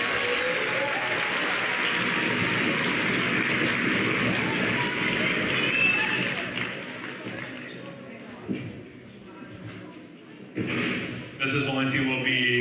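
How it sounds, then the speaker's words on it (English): Audience applause fills a school 8th grade awards ceremony, a dense steady wash of clapping for about eight seconds that thins and fades, with scattered claps and thuds near the end. "You can give her a big round of applause."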